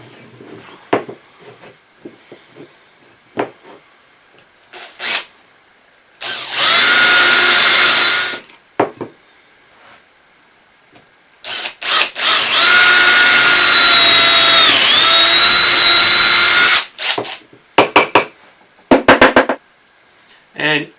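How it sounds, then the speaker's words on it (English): A power drill boring holes through the ends of a wooden handle, two sustained high whining runs of several seconds each, with brief tool clicks and short bursts between them. "So I'm going to drill holes in each end, slightly bigger than a 1/4 inch."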